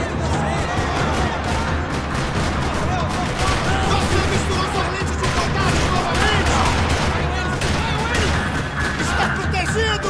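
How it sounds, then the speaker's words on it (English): Continuous, dense gunfire rattles across a parking lot in the video game Max Payne 3, with rapid overlapping shots and crashes filling the whole stretch at close range, and voices faintly mixed in. "Another parking lot rattling with gunfire."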